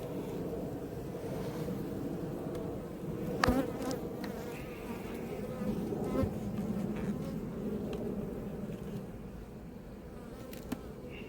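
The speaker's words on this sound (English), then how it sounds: "That's either a queen wasp or a hornet." A hornet or queen wasp buzzes loudly near a beehive at an apiary, its steady droning hum continuing close by for the whole stretch with a few brief knocks and no talking.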